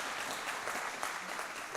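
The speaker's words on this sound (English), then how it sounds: "So, yes, you give them another round of applause." A church congregation claps continuously, a dense steady patter of many hands with no voices standing out.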